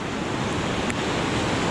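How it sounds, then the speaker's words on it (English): The Dudh Koshi river rushes far below a snowy Everest-region trail, a steady, loud broadband roar of flowing water with wind, continuous and unbroken, with no voices. "Down there is a beautiful river,"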